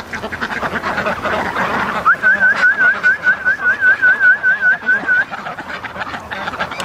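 Muscovy ducks outdoors in a breeding pen on a cold morning give a rapid run of repeated, evenly spaced calls in the middle of the clip, set against steady outdoor background noise with some rustling before and after.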